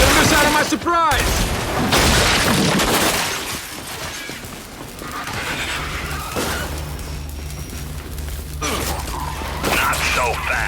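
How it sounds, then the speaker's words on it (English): A loud flash grenade blast and rattling gunfire erupt in the video game Gears 5, mixed with game voices and effects, followed by a quieter stretch and another burst of action. "Flash grenade out!"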